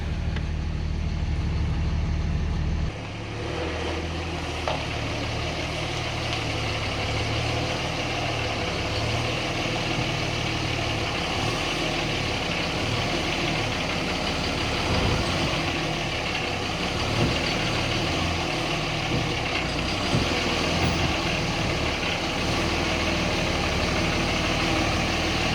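A 2004 Dodge Ram 2500 with a Cummins diesel idles steadily nearby, a low even rumble that carries on for the whole stretch after a brief louder start.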